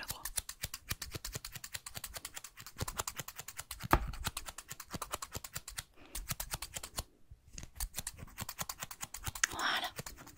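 Scissors snip through hair in a close, quiet ASMR haircut role-play, with steady rapid crisp cuts and a brief pause midway.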